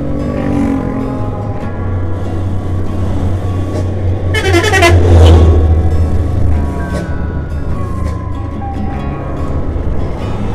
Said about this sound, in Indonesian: ada truk ya